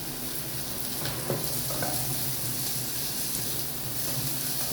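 Green chillies sizzling in a pan with beans and carrot, a steady close hiss of frying with faint scraping as the mix is stirred.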